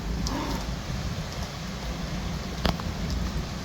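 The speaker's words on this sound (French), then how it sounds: "Pour l'instant, c'est que de la pluie." Rain falling during a strong thunderstorm in Bordeaux, a continuous dense patter of drops on surfaces with a brief sharper spatter near the end, no talking.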